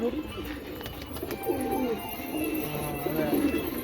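Pigeons coo softly in repeated low, throaty phrases, fairly close, over a faint background hiss and some distant murmur.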